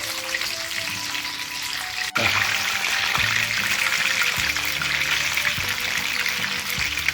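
Pomfret fish sizzles steadily in a hot frying pan, a constant hiss of oil dotted with small pops and crackles, close and unbroken throughout.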